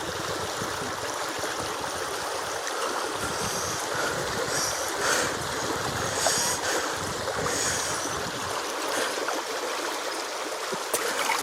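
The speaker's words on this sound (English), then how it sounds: "Fill the bottle." A bottle is dipped into an outdoor stream to fill it, giving soft gurgling and sloshing over a steady background of flowing water and light wind, without speech.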